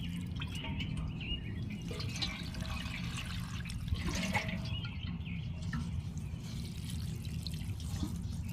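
Liquid fertilizer poured from a container onto the soil beneath Endless Summer hydrangeas on a patio, a steady close trickle and splash lasting throughout with no talking.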